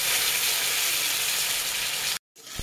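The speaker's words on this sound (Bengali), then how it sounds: "একটু ফাটে কিন্তু, হ্যাঁ, সর্ষেগুলো দিয়ে দেবো তেলের মধ্যে।" Mustard seeds hissing and spluttering in hot oil while tempering for mango dal, a steady close sizzle that cuts out abruptly, then resumes more quietly.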